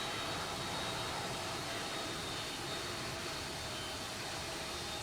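Jet airliner engines in a flight simulator winding down as the throttle eases back, a steady broadband roar with a faint whine, loud and continuous throughout.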